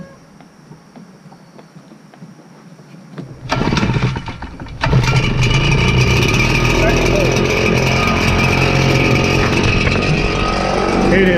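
A cold Red Max leaf blower engine is pull-started: quiet rustling, a sharp sputtering catch, then the two-stroke motor roars up and holds a loud, steady high drone close by.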